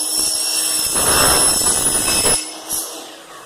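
A saw cuts through an aluminium window frame profile for a two-leaf window. It makes one loud, continuous grinding burst of a bit over a second, then cuts off and leaves a faint ring and a short clack.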